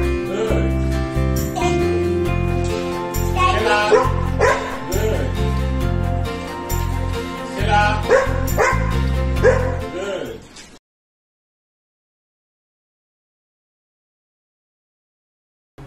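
A puppy yaps and barks in repeated bursts over steady tonal background sound for about eleven seconds, fairly loud and near, before everything cuts to silence.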